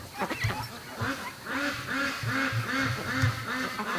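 Free-range ducks muddy from digging in dirt quack in a steady run of repeated, fairly close calls, several birds overlapping in a rhythmic chorus.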